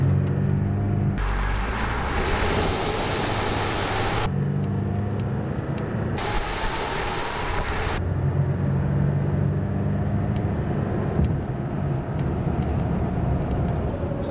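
A tuned Chevrolet Colorado Duramax diesel truck with downpipe and aftermarket exhaust accelerates at full throttle, a loud continuous low engine rumble and roar that holds steady throughout with shifting bursts of broadband noise, no talking.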